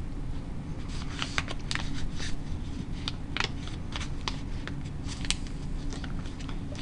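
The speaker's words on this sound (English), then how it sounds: "Use my bone folder to make that crease nice and strong" Origami paper creased firmly with a bone folder while a simple paper boat is folded, heard as a run of short dry scraping and crinkling strokes, close and steady over a low room hum.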